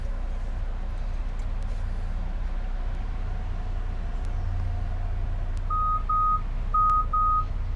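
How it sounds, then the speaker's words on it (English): Parking sensors on a 2019 Chrysler Pacifica Touring L Plus mobility van, sounding as a few short high electronic beeps in pairs near the end over a steady low vehicle rumble, moderately loud inside the cabin. "I got somebody coming behind me, so you hear the sensors going on."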